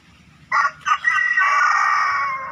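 A young fighting rooster, an eight-month-old crossbred cock, crows loudly and close by, opening with two short bursts before one long sustained call that trails off near the end.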